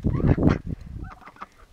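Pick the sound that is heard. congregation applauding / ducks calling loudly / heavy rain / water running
ducks calling loudly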